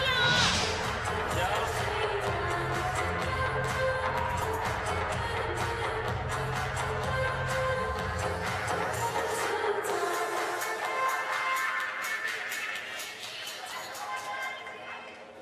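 Chinese fans in the crowd at a wheelchair curling mixed doubles semi-final between China and Latvia in Milan, cheering and chattering steadily throughout, a loud sustained crowd roar that eases toward the end.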